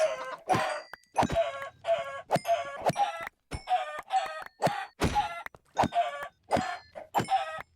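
Rapid, repeated electronic clucking from chickens in a Minecraft-style multiplayer server game, a dozen or so bright, clipped calls in a steady run with no talking.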